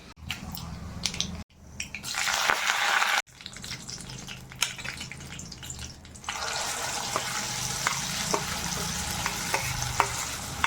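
Chana dal, mustard seeds and cumin tempering in hot oil crackle and sizzle loudly and close by. Stirring scrapes come in brief surges, and the sound cuts out abruptly a couple of times. No one speaks.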